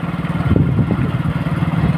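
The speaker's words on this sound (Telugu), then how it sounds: "ట్రాక్టర్ పోతుంది" A tractor's diesel engine chugs steadily with a low rhythmic thumping, close by, its clatter swelling briefly as it passes before settling back to a steady putter.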